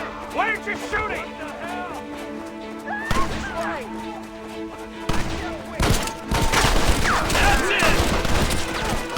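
Rapid gunfire crackles through a shootout in the Western game Red Dead Redemption, with loud bursts of shots, thuds and impacts mixed under shouting voices.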